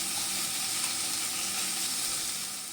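Ground spice paste being stir-fried in a pan gives a dense, steady, close sizzle and hiss that runs throughout and eases slightly at the end.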